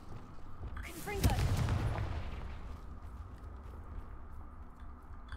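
Confringo spell cast in Hogwarts Legacy: a sudden blast with a crackling burst that fades over a few seconds into quiet game ambience, following a brief spoken spell name.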